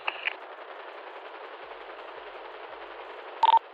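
An aircraft-mounted gun in a video game fires in short, rapid bursts, one at the start and a cluster of quick shots near the end. Both bursts sit over a constant muffled radio-like hiss.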